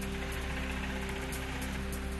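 Rain falls in Sangli during an afternoon downpour, a steady, even patter with no voices, continuous and moderately faint throughout.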